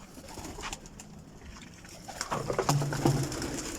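Pigeons coo in low, soft repeated notes, growing more prominent in the second half, over a steady outdoor background hiss.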